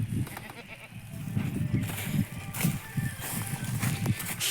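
A loose calf bleats repeatedly nearby, with shuffling movement and rustling between calls.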